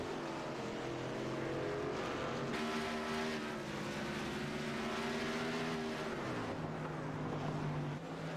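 Race cars and trucks run together on a track during a televised race broadcast, a continuous loud engine roar with rising and falling pitch as vehicles pass close by, sustained throughout without talk.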